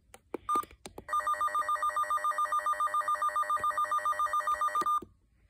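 Alarm tone from a Running Snail MD319 emergency radio being tested indoors: a loud, steady electronic trill pulsing rapidly for about four seconds after a few brief clicks, then cutting off.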